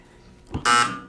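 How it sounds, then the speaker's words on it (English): A single loud electronic quiz-show buzzer blares for about half a second after a brief thump, harsh and tonal, then cuts off. "Oh, the buzzer sounds."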